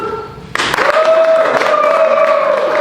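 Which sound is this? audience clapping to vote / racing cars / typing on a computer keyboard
audience clapping to vote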